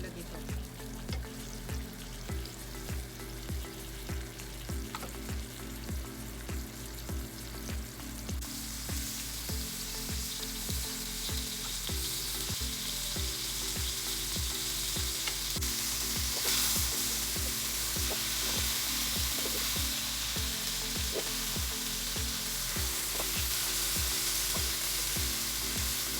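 Beef morcon, a Kapampangan Christmas dish, fries in a pan with a steady, loud sizzle. Regular stirring or scraping strokes run throughout, and the frying grows brighter and denser partway through.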